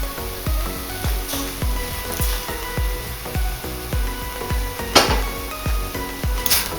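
Red wine goes into a pan of frying vegetables for a Bolognese ragu, giving steady sizzling with regular, evenly spaced clinks of a utensil against the pan and a sharper hiss burst partway through.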